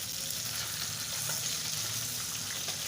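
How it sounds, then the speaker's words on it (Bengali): Tengra fish fry in oil in a pan for a Bengali tengra and pui shak curry. The dense, steady sizzle runs the whole time with faint scraping stirs and no voices. "মাছগুলো ভালোভাবে ভেজে উঠিয়ে নেব"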